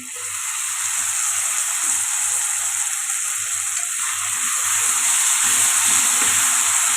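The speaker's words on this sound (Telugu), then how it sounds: "ఇప్పుడు టమాటా కూడా కొద్దిగా పచ్చివాసన పోయేదాకా ఫ్రై చేస్తాం ఇలా ఉడుకుతుంది కదండి" Tomato puree frying in a pan for a dhaba-style matar paneer masala, giving a steady, close sizzle with soft bubbling and spattering that runs continuously without any talking.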